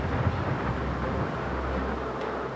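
A loud, continuous roar of wind and rushing water as Hurricane Katrina's storm surge comes in, dense and rumbling throughout with no break.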